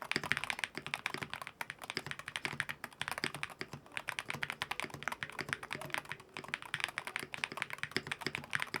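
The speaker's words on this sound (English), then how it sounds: "Here's a little sound test if you want to hear." Typing on a Sikakeyb Castle HM66 magnetic keyboard, fast continuous key presses with a clacky, fairly deep thock, close and quiet, running steadily with no talking.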